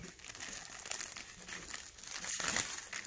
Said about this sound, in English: This is beef stew. just cut it open.